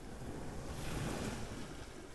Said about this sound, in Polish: Dzisiaj morze jest wzburzone, o pływaniu nie ma mowy, ale można poskakać na falach.